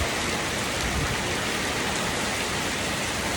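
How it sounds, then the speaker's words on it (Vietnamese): A heavy downpour pounds nearby surfaces as thunder rolls in, producing a dense, steady hiss of rain with no gaps and no voices. "Mưa to quá này."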